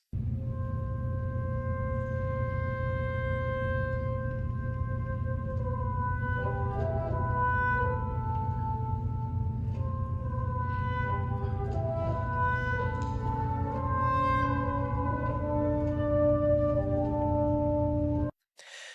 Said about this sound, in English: after the opening bassoon solo